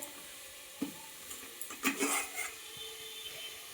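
Leafy greens (shak bhaja) frying in a pan, stirred with a few scraping strokes over a soft, steady sizzle, close and fairly quiet, with no talking.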